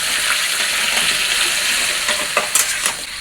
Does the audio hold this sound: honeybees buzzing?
no